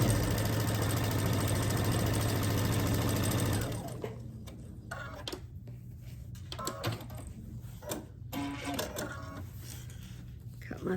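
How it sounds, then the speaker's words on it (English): A sewing machine stitching the long side of a quilt block seam, heard as a loud, fast, steady mechanical whirring chatter that stops after a few seconds, followed by quieter handling noises and faint clicks. "Stitch down the long side."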